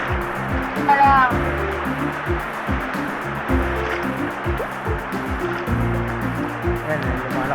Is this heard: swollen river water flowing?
yes